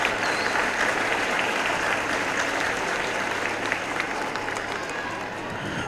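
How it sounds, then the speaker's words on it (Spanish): Crowd applause during a mayor's speech in Guerrero, Mexico, a thick, continuous wash of many hands clapping at a steady, loud level throughout, with faint voices mixed in. "venga el aplauso de ahí."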